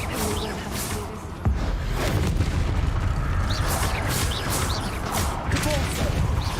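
A Confringo spell blast in the video game Hogwarts Legacy hits with a sudden heavy boom, then a sustained loud roar of rumbling combat noise with scattered crackles and impacts layered over it.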